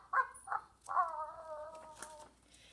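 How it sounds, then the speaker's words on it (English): A dog named Jingle gives two short barks and then a longer, drawn-out tonal bark, faint and fairly close in a quiet setting. "Jingle loved to bark hello."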